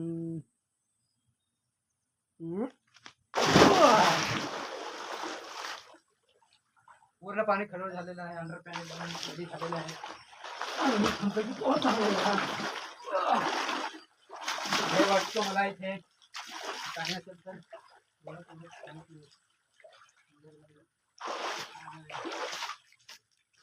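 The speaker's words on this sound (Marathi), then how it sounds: "चला मित्रांनो याच्यामध्ये आपण उडी मारूया" People jump into blue water for a swim, with splashes and sloshing in bursts between stretches of excited talk and shouting.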